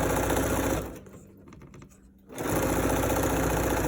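A sewing machine stitches a hem, running loud and continuous, pausing briefly in the middle, then starting up again with the same buzzing drone.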